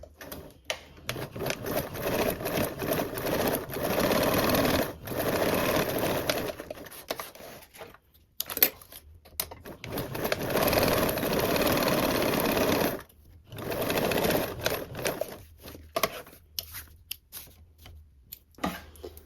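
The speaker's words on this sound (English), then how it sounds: "stitch along our 2 longer ends, top and the bottom" Sewing machine running in long steady bursts as it stitches a quarter-inch seam along the top and bottom edges of a Belmont Luxe project, with brief pauses between runs, close and fairly loud.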